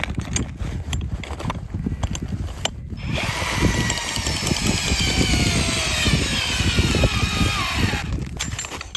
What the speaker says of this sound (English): So these just fit onto a regular drill